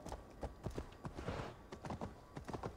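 Rapid clip-clop of a horse's hooves in Assassin's Creed Valhalla, a brisk uneven trot of sharp thuds with a short rushing swell in the middle, fairly quiet and without talk.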